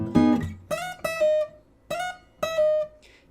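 Single notes on an acoustic guitar played in a fingerstyle solo passage with slides and pull-offs, four clear plucked tones ringing in a short, even phrase, each decaying before the next.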